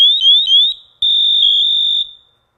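A firefighter's distress alarm sounds loud and shrill, chirping electronically in three rising sweeps, then holds a steady piercing high tone for about a second before cutting off.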